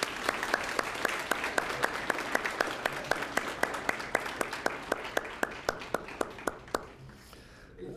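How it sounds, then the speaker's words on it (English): An audience at a virtual youth conference on water issues applauds a presenting group, with steady clapping that gives way to a few separate claps and fades out near the end. "Let's give a big round of applause"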